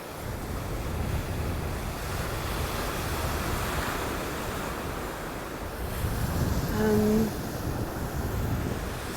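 Ocean waves wash onto Sanibel beach in Florida, a broad, continuous roar mixed with wind rumble against the microphone, swelling louder near the end.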